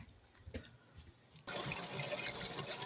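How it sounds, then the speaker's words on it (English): A tap suddenly turned on, faint room noise giving way to a steady, loud hiss and rush of flowing water that keeps pouring to the end. "there's something really wrong with the water that comes out of this tap"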